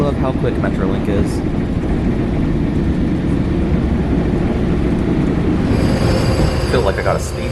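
A Metrolink commuter train in Los Angeles rolls steadily along the rails with a constant low rumble and faint wheel squeal, heard from inside a car.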